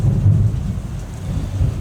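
A deep, continuous rumble of thunder rolls low and loud throughout, with a hiss like rain over the top and no voices.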